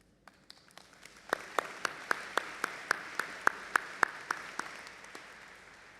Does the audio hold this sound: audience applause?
yes